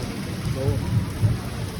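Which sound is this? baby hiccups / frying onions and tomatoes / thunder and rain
thunder and rain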